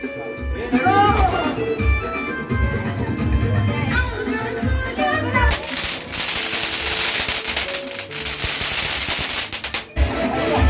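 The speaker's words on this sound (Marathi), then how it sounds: "इकडे बॉम्ब आता पडतोय दोन एक साथ" Firecrackers burst at a Tulsi Vivah celebration: a dense, loud stretch of rapid crackling pops fills the second half, after an opening of voices and tonal sounds.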